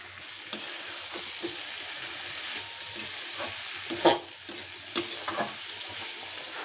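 Raw green tomato bhaji with coriander leaves frying in a pan, a steady close sizzle with scattered clinks and scrapes of stirring, no voices.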